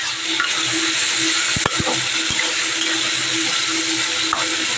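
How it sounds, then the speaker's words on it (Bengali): A potato fries in a pan with a steady, fairly loud hiss of hot oil, broken by a few sharp clicks of utensils and no talk. "একটা আলু ভেজে নিচ্ছি"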